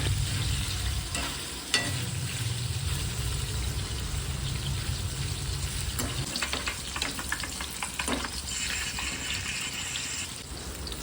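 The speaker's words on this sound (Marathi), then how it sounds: "पनीरचे जे बारीक बारीक कट केलेले आहे ते थोडंसं तळून घेते" Small cubes of paneer fry in oil, a continuous, fairly quiet sizzle with occasional crackles and light clinks, heard alone without talk.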